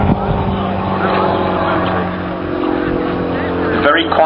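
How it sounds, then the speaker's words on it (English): A small aeroplane's 80 horsepower Jabiru engine hums steadily and fairly loud in flight during gentle aerobatics at an air show, a continuous drone with a slight swell near the end. "Very quiet little thing humming up the front of this aeroplane is just a little 80 horsepower Jabiru engine"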